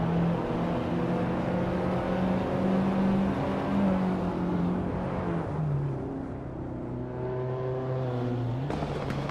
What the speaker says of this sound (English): zooming off in a classic 1983 Porsche 911 SC